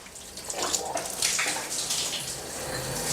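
Water runs steadily from a washing machine tap just after a spindle leak repair, a continuous close hiss and splash with no talking.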